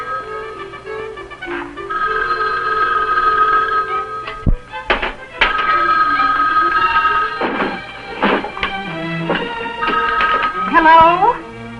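An old 1960s Bell System farmhouse telephone rings in repeated bursts of its bell, close and clear, while someone talks over and between the rings.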